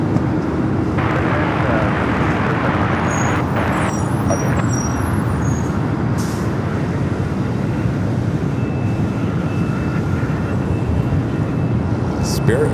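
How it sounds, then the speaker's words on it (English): A Spirit Airlines jet bound for Las Vegas takes off on runway 25 right at Los Angeles, a loud, steady broadband engine roar filling the whole stretch, with voices talking faintly underneath. "Spirit flight rushing down the 25 at right, heading to Vegas, flight 4."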